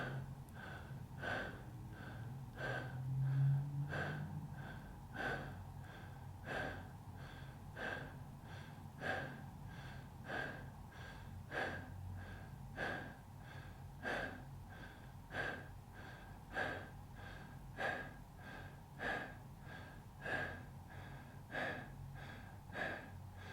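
Twenty-five connected breaths through the nose or mouth during a guided breathwork session, a close, even series of sharp rhythmic inhale-exhale pulses repeating about once a second, with no talk.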